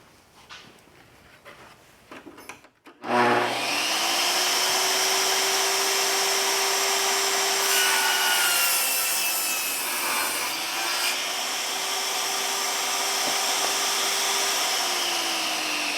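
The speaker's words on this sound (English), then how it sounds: "So I'm just going to run it through the table saw here just to give myself a nice straight edge" Table saw ripping a pine board for deck beam supports, opening with a few close handling knocks before the blade spins up into a loud, sustained whine as the wood feeds through, the pitch dipping slightly under load.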